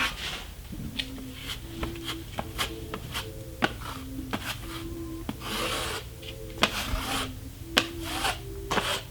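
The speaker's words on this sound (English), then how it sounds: "gonna use a scraper, and I'm just gonna run over the nails, make sure none of them are sticking out" A scraper is run over nail heads on a plastered wall, making close scraping and rasping strokes with repeated sharp clicks as the blade catches, steady and moderate in level over a faint low hum.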